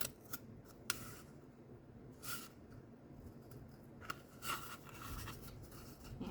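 Scissors snipping through a cardboard toilet paper roll, a series of soft, close crisp cuts and small clicks, quiet and irregular, with faint background noise.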